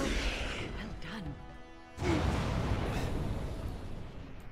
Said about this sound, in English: Followed by sudden explosion.